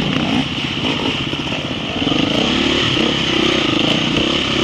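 Enduro motorcycle engines roar continuously during a wet cross-country endurance race at Muriel Viejo, loud and near with steady revving and a rough, clattering note throughout.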